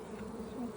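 Honey bees buzzing on a hive frame of bees and eggs during a backyard hive split, a soft steady close hum lasting under a second.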